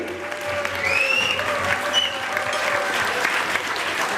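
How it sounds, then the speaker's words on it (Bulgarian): Loud, sustained applause from an audience at a Business Woman of the Year 2014 awards ceremony, greeting a writer coming up to present an award, with whoops and cheers rising over dense clapping throughout. "Силни аплодисменти!"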